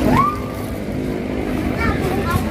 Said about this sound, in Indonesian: Tuh lihat ombaknya kayak ngegulung gitu loh.